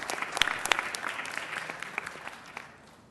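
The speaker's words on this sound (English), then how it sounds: "Let's give them a round of applause." Audience applause at a city council meeting, a steady round of clapping from a small crowd in a chamber that gradually thins and fades out.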